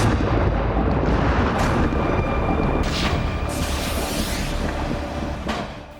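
A drone strike explosion at the Ryazan oil refinery booms as a deep, rumbling blast followed by a long roaring fire rumble, fairly distant and heard alone without talk.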